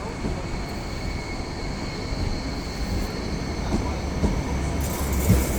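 A Hong Kong train rolls past on its rails nearby, a steady broadband rumble with faint metallic wheel squeal that swells slightly toward the end.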